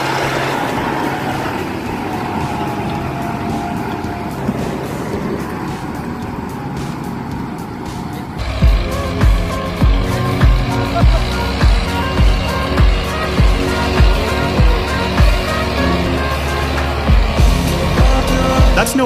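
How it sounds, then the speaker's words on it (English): A Belarus MTZ-920 Turbo tractor churns through swamp terrain, its engine a loud, close, continuous drone that shifts partway through into a heavier labouring roar with regular rhythmic surges. "The Belarus MTZ-920. Turbo demonstrates exceptional performance as it navigates through challenging swamp"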